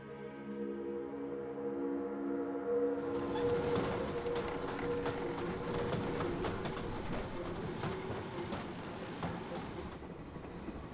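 Train rolling on rails, carrying prisoners deep into Nazi Germany during World War II, a steady rumble with rhythmic clickety-clack building in after a low tonal hum, moderately loud.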